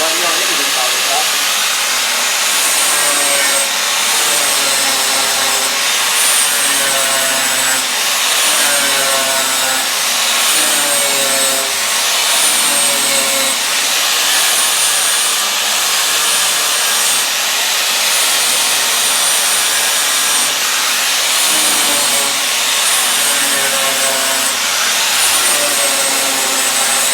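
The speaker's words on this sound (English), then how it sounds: "Never work the grinder in one spot too long. You heat up the metal, distort it." A grinder works steadily on the metal body of a 1950 Ford, a continuous loud hissing grind with slightly pulsing passes across the panel throughout, close up and without pause.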